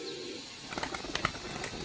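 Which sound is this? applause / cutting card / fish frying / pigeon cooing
pigeon cooing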